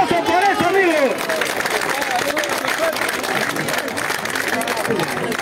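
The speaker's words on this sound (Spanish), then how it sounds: "¡Aplausos por eso," Crowd applause at a political rally in Peru, a steady dense wash of clapping mixed with cheering voices and loud speech over it, continuous from start to finish.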